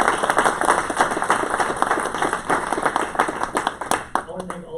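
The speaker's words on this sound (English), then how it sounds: "So please join me in giving them a round of applause." Conference audience clapping for panelists at a legislative roundup event, a steady burst of many hands throughout with a voice talking over it.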